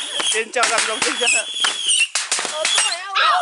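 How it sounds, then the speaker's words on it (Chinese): Beehive firecrackers going off at a festival, with crackling bursts that overlap in a dense, continuous barrage mixed with excited shouting and screams from people nearby. "有人甘愿被炮打？"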